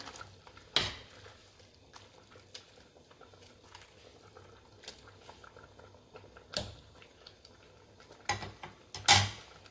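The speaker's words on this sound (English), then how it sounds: "You just stir" Collard greens cooked with turkey being stirred in a pot, with soft liquid bubbling and occasional sharp clinks of a utensil against the pot, heard close up and fairly quiet with no talking.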